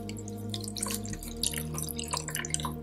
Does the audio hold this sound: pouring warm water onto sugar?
yes